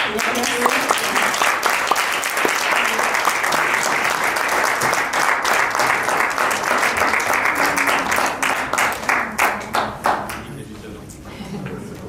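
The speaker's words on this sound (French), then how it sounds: "Je crois qu'on peut applaudir nos intervenants." Audience applause for the speakers at the close of a round-table talk, a dense roll of many hands clapping for about ten seconds before thinning into scattered claps, with a voice speaking over it.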